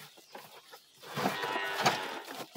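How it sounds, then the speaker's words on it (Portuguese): A calf bawls on a farm with one long, loud, drawn-out cry in the middle, fairly close, after a few quieter background sounds. "Calma aí, o bezerro já tá berrando ali já."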